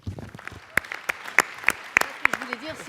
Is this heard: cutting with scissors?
no